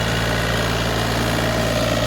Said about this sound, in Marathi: हे पहा यंत्र हे ट्रॅक्टर आहे जॉन डिअर